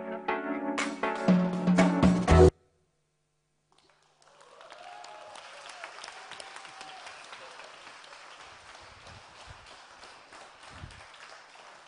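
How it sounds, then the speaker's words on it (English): Applause from an audience at a youth forum presentation, a soft, steady spread of clapping that rises after a burst of music and a short silence, moderately distant and continuing to the end. "Actually, all this applause should go to Siri, our graphic facilitator."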